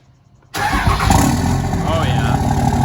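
A straight-piped Cummins 24-valve diesel engine cranks and catches after a half-second of quiet, then runs loud and close with a rough, throbbing rumble, and voices come through over it.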